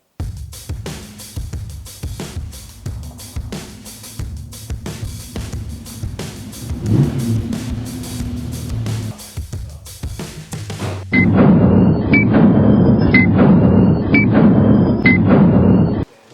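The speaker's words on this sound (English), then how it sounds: "I've just driven the car in." A Ferrari 250 GTO is driven into a workshop: its engine gives a deep, rumbling drone for about eleven seconds, then a steadier, brighter mechanical hum takes over until the end.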